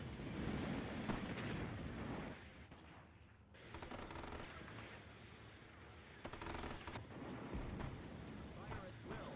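Video-game artillery and gunfire thunder in dense rolling bursts, heavy booms layered with rapid machine-gun rattles, loud and continuous with brief lulls between volleys.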